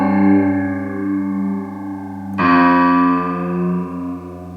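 Eventide Spring reverb plugin on iOS with the spring tension being changed in real time: sustained, distorted harmonic tones that shift abruptly midway into a brighter, swirling reverberant wash, loud and with no talking.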